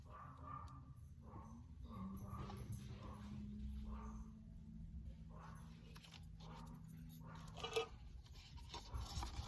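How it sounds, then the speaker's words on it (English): A small Pomeranian barks repeatedly from upstairs, a string of faint, muffled yaps spaced about a second apart, distant through the house over low room noise. "I have an obnoxious little Pomeranian upstairs that just thinks that she is the watchdog of all watchdogs, and she just doesn't stop once she starts"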